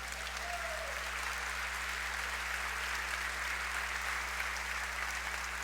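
A church congregation claps for the Lord in a sustained, even round of applause, dense and steady under a constant low hum from the room's sound system.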